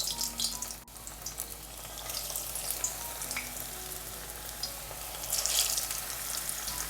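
Egg and onion frying in hot oil in a pan, giving a steady bright sizzle and crackle throughout, with a brief clatter near the start and a louder surge of spitting toward the end.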